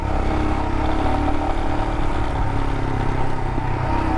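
A 2022 Royal Enfield Himalayan motorcycle rides off-road through sand, its engine droning loudly and steadily up close with rough clatter and wind noise throughout.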